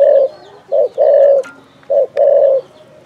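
A spotted dove coos near and clear, a steady rhythm of deep hollow notes with short pauses between them and nothing else heard.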